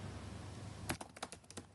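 A computer keyboard is tapped in a quick burst of about a dozen crisp keystrokes, close and clear in a quiet room with a faint background hiss.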